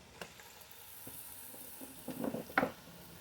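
Beef stew meat sizzling as it drops into a hot pot, a soft hiss with scattered clatters that builds into louder bursts near the end as more pieces go in.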